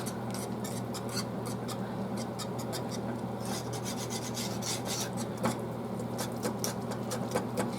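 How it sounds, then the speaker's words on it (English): Alfredo sauce with cheese being whisked in a pot, a continuous close rasping scrape with quick rhythmic taps of the whisk against the pan. "And I'm going to continue to whisk."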